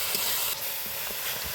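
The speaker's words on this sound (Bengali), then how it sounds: "এবার বেটে রাখা থানকুনি শাকটা দিয়ে দিব।" Ground thankuni (Indian pennywort) greens sizzle in hot oil over onion and chilli, a steady, close hiss with faint crackles throughout.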